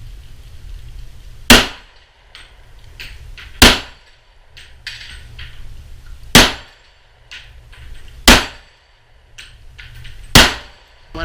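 Five sharp, loud gunshots ring out at steady intervals, each followed by the metallic clang of bullets striking steel targets outdoors.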